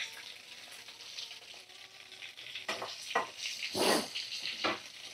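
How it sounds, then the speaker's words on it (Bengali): Large cut potato pieces frying in turmeric-and-salt seasoned oil left from frying chicken, a quiet steady sizzle that swells into a few louder bursts of spattering and stirring toward the end. "তো চলো আলুগুলো ভাজা করে নিই"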